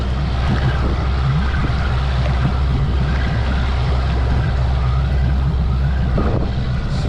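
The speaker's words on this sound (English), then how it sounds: "Still in neutral, just giving it some revs." A used project boat's engine idles steadily in neutral with a low, continuous drone, near and fairly loud, while water laps and splashes faintly around the hull.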